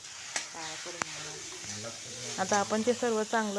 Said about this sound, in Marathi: व्यवस्थित त्याला असं हलवून परतून घ्यायचं आणि गाजर पूर्ण शिजवून घ्यायचं